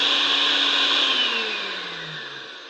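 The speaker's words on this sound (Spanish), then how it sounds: "Cuando yo activo un pulsador, la licuadora funciona." A blender switched on by push button in a logic-gates demonstration whirs steadily at close range, its motor pitch sagging slightly as it runs for a few seconds with no talking.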